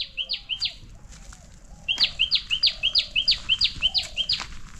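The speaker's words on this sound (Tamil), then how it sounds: "குருவி கத்துற பாரு, அப்படியே கொஞ்சம் அமைதியாக கேளுங்க." A sparrow chirps in a village forest: short bright chirps in a brief burst, then a quicker repeated run of a dozen or so calls, close and clear over a quiet background.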